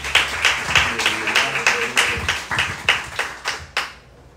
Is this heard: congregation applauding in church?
yes